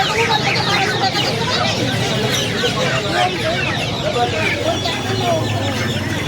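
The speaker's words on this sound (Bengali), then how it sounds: "এখানে কিছু মুরগি বাচ্চা আছে দেখুন" Chickens and chicks clucking and cheeping steadily at a crowded poultry market in Uluberia, Howrah, with a murmur of voices in the background.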